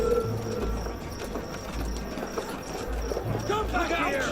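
Horse hooves clop in quick rhythmic beats amid background noise in the video game Assassin's Creed Unity, fairly faint and close.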